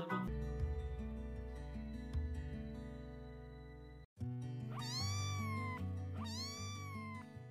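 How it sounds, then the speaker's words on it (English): A cat meows twice, close and clear, with rising and falling cries, over a bouncy children's song backing track. "C for cat."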